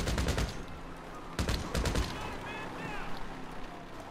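Gunfire in the video game GTA Online: rapid automatic bursts early on, then a louder cluster of shots, followed by a quieter stretch where a voice or siren-like tones rise over fading background noise.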